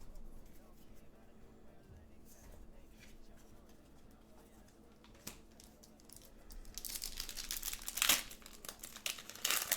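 Crinkling of foil booster pack wrappers for Magic: The Gathering Ravnica Remastered cards being handled and opened, a steady papery rustle that swells louder and denser toward the end, with brief sharp crackles.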